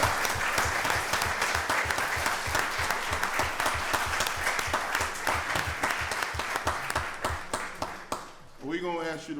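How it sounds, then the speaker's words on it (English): Applause for a commissioner's wife at a county board of commissioners voting session, with sustained hand clapping from the room, steady and fairly loud, fading near the end as voices take over. "Let's give his wife a round of applause"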